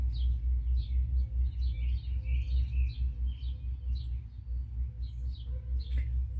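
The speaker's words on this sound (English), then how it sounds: "As always, you hear the birds." Birds chirp outdoors in short, bright repeated calls at a middle distance, scattered over a constant low rumble of background noise.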